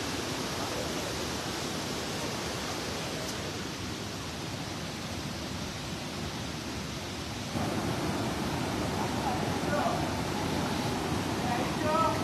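Thalaiyanai waterfall at Kalakad, a steady broadband rush of falling water filling the whole span, growing slightly louder toward the end, with people talking faintly over it.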